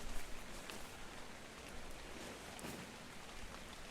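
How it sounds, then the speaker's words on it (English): Acid rain falls steadily in the ARK Survival of the Fittest video game, a constant soft hiss of rainfall pattering on surfaces that stays even and moderately quiet throughout, with no voices. "Acid Rain yet again."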